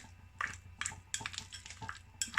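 Utensil scraping and clinking against a bowl while butter melts into a mixture for baked scallops with parsley, garlic and chilli, in several short close bursts with quiet gaps.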